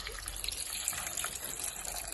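Liquid pours steadily for a couple of seconds, a soft, continuous splashing trickle, close and fairly quiet.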